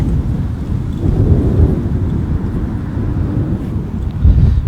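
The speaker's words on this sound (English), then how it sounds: "A bit windy as well." Steady, loud wind roars and buffets against the microphone at a fishing lake, a continuous low rumble with gusts swelling toward the end.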